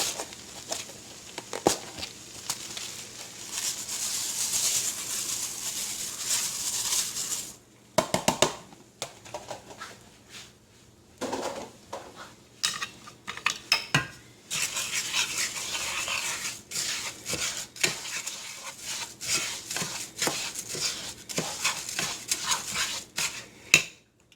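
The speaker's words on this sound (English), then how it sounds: "And now I want to add my rice." Raw rice poured into a pan for a one-pan chicken and Parmesan rice dish, making a close, steady granular patter and rustle in bursts with brief pauses and no talking.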